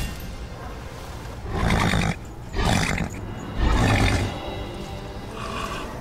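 A horse neighs in Darksiders Warmastered Edition: three loud, harsh, roar-like bursts close up, with short gaps between them and no talking.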